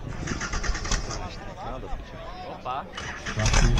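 A vehicle engine starts and revs for a race, rising to a louder roar at the end, mixed with nearby voices talking.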